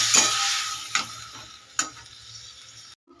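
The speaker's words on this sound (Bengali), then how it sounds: "একটু জল দিয়ে ভালো করে এটা কষিয়ে নেব।" Fried potatoes and cauliflower sauté in a pan with a little water, sizzling under a few sharp spatula scrapes and taps, before the sound cuts out briefly near the end.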